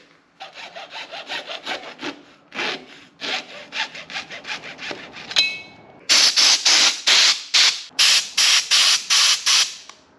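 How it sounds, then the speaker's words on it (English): A hand saw trims the end off a rubber hand grip on an 80s Honda Sandstar motorcycle, with rapid rhythmic back-and-forth strokes that are softer at first and then louder and more forceful, close up. "So I'm going to trim off the end here and fix that because that's a priority."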